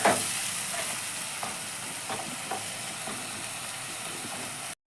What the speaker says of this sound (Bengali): এইবার এই পেঁয়াজটাকে একটু ধৈর্য ধরে লাল লাল করে একটু ভেজে নিতে হবে।